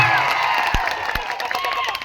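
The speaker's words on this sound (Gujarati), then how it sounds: "તાળીઓ." A crowd at a political rally in a Gujarat village applauds and cheers, a broad wash of clapping and shouting with a couple of sharp thumps, mixed with voices.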